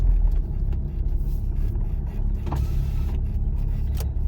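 A car pulls away and drives straight ahead during a practical driving exam in Ukraine, giving a steady close engine and road rumble with a few faint clicks and thumps over it.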